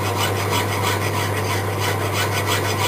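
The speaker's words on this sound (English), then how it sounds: "And I'm really going lightly with the files, both files." Two hand files lightly work a metal bolt-action pen, producing close, steady rasping strokes in an even back-and-forth rhythm with no talk.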